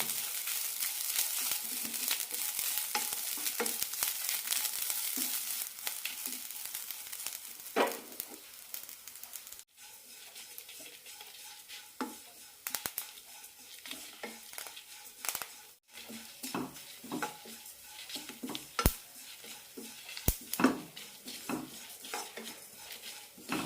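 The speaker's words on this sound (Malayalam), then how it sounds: "നല്ല ചോക്കുന്നത് വരെ വറുത്തെടുക്കണം" Coconut, sesame seeds, chillies and curry leaves dry-roast in a pan with a little oil, while a spoon repeatedly scrapes and stirs with irregular clinks and soft crackling, close and moderately quiet.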